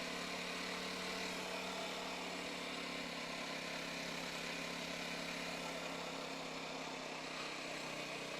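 A BSA Bantam motorcycle engine labours up a very steep hill in third gear, a steady, unbroken drone that holds at a constant pitch for the whole stretch without any gear change.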